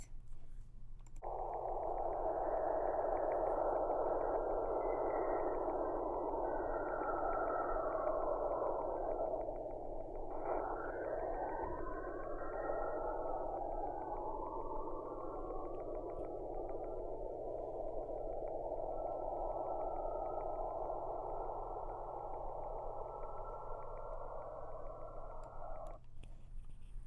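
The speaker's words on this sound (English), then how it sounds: "what you hear are plasma waves moving from Saturn to its moon Enceladus" Eerie continuous whistling drone with sweeping, warbling tones that rise and fall over a low hum, like otherworldly radio noise: Saturn's plasma waves travelling to its moon Enceladus, recorded by the Cassini spacecraft and converted to sound, lasting nearly half a minute.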